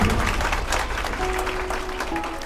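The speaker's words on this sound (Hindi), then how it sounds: "हमारे सीओ सिटी साहब के लिए जोरदार तालियां बजा दी जाए।" An audience claps steadily at a foundation gathering, a dense sustained round of applause from many hands, with a faint tone held underneath.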